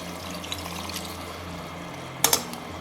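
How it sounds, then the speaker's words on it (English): Tamarind water is poured into a pot of chicken pieces for Malaysian rendang, a soft continuous liquid rush ending in a couple of sharp splashy pulses near the end. "Add the tamarind water."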